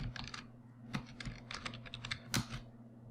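A password typed on a computer keyboard: a short run of close, quiet key clicks in uneven bursts, with a couple of sharper taps over a low background hum.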